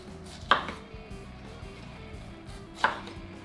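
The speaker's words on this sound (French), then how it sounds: "Et maintenant on coupe des rondelles." A knife cuts rounds from roasted pineapple in two distinct, crisp chops about two seconds apart, each striking the board sharply and close by against a quiet room, with no voices.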